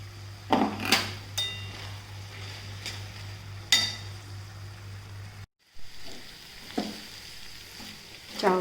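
Washed rice is stirred and fried in oil in a pan for sweet corn pulao, giving a soft sizzle with intermittent scraping and clinking of the spoon, a steady low hum underneath and a brief cutout midway.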